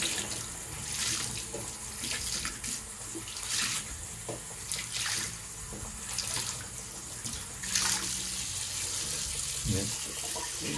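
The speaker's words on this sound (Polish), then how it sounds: "Normalnie pod bieżącą wodą." An aquarium filter sponge from an Aquael Ultramax 2000 canister filter is rinsed under a running tap, giving steady splashing water with brief squeezes and gushes throughout.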